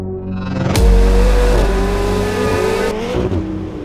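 McLaren 750S supercar engine starts with a sharp burst and rises into a loud, close rev, then settles into a sustained throaty drone with a second blip near the end.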